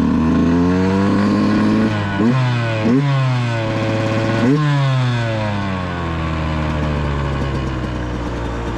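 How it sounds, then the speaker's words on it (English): A Beta dirt bike engine warms up close by, idling roughly and then revving sharply several times, each blip rising and falling, before it settles back to a steady idle. "I haven't started this bike in like 3 months"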